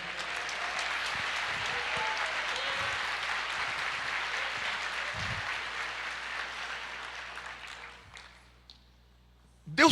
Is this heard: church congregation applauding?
yes